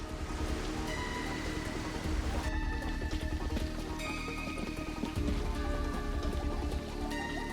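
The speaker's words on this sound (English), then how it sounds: "Something is falling from the sky! Yeah, it's called rain." In Rain Code, steady rain falls as a dense, constant patter throughout, with game music tones playing over it.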